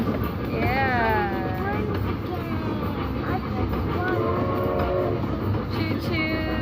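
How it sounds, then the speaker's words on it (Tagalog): A choo choo train ride at IMG World Dubai, an indoor theme park, rumbles along amid busy crowd noise, with voices and children talking throughout over a continuous loud background. "Choo choo train."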